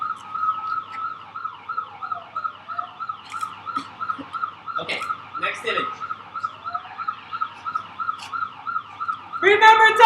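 Emergency vehicle siren wailing in a steady repeating high-low cycle throughout, fairly close and loud, with brief clatter in the middle, a burst of noise at the end and a short spoken phrase.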